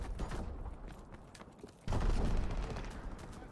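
Bombs and gunfire in a Call of Duty WWII battle, a rumbling bed of distant blasts that swells abruptly into a louder, dense barrage of explosions and shots.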